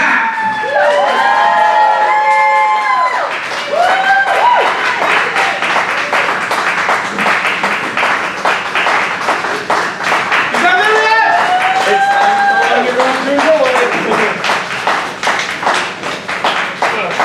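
A loud, lively crowd at a Dayton, Ohio poetry slam claps, cheers and whoops at length, with shouts and excited voices rising over the dense applause throughout.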